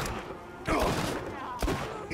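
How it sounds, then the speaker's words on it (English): Two heavy sniper rifle shots from the video game Borderlands 2, each a sharp, loud burst with a short echoing tail, spaced about a second apart over steady game background noise. "I'm sniping right now"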